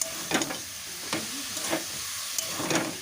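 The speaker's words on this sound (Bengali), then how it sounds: "মোচাটা দিয়ে প্রায় পাঁচ সাত মিনিট ধরে কষাতে হবে" Banana flower and potatoes being stir-fried in a pan for a chop filling, a steady hiss of frying broken by a few scraping stirs of the spatula, close and alone with no talk.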